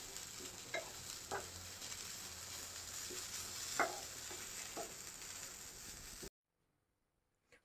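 Grated coconut roasting and stirred in a pan for a Kerala brinjal theeyal, a soft continuous sizzle with occasional scraping taps of the spoon, close and quiet, ending abruptly in silence.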